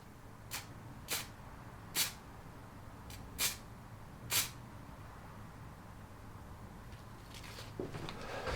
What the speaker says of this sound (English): I'm gonna use a clear coat spray to seal it